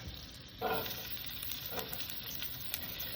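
Garlic sizzles steadily in butter with a little sesame oil in a pan, a constant close hiss with a few brighter crackling swells as it hits the fat.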